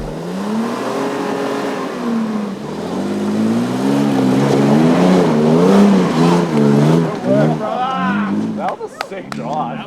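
Toyota Prado 4WD pushing along an off-road track in the high country, its engine loud and close, straining and revving with a wavering pitch, followed by a few scattered knocks near the end.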